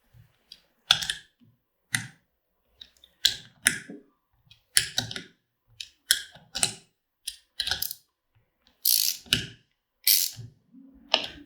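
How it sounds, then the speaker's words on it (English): A socket wrench ratchets against the underside of a Tecre button-making machine turned upside down, giving short bursts of crisp clicks in irregular groups separated by brief pauses, close and fairly loud with no talking. "That is going to require a socket wrench right here on the bottom of this machine."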